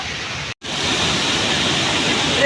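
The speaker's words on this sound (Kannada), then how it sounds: "ಫಾಲ್ಸ್ ಕಾಣಿಸ್ತಿದೆ ಆಲ್ರೆಡಿ. ನೋಡಿ ನಿಮಗೂ ತೋರಿಸ್ತೀನಿ ಫಾಲ್ಸ್ ಯಾವ ರೀತಿ ಇದೆ ಅಂತ." Bandaje Falls, a waterfall reached by trekking in Chikkamagaluru during the monsoon, gives a loud, steady broadband roar of falling water that drops out for a split second near the start, with no voices.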